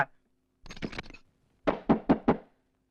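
Knocking on a closed door comes in two bursts, a short cluster of three raps then four firm, evenly spaced knocks, loud and close, with no talk.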